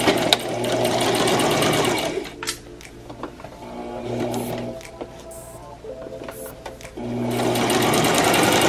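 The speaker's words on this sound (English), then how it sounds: "You're just going to edge stitch it." A sewing machine edge-stitches the flap of a fabric face mask, running in loud, fast, steady stitching bursts near by with brief quieter pauses between runs.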